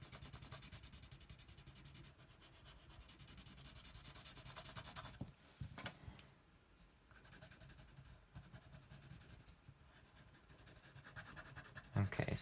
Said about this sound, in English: I don't like the sound of the pencil shading in.